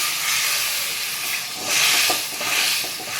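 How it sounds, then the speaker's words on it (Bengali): Warm water poured into a hot pan of sizzling spiced potato and taro curry for an egg curry gives a loud steady hiss that swells and surges twice, with no talking. "এবারে আমি উষ্ণ গরম জল দিয়ে দিচ্ছি একটু।"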